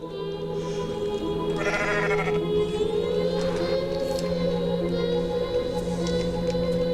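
Sheep in the video game Goat Simulator bleat in a few drawn-out, wavering cries over a steady droning game background, with no talk.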